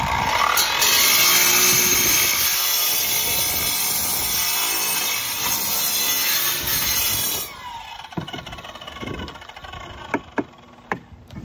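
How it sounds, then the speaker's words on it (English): A power saw shaves the edges of flat roof tiles for a Bermuda-style flat tile roof, producing a loud, harsh, continuous grinding screech that stops partway through, followed by a few scattered knocks and clicks. "Shaving the edge of the tiles here for the rake tiles to go on."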